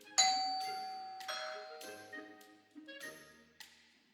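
A doorbell chimes in a clear ding-dong pattern, its bright tones struck several times and ringing out with decaying tails in a quiet room, with no talking.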